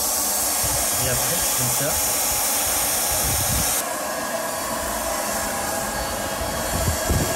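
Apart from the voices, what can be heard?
hot air heat welding of pool liner membrane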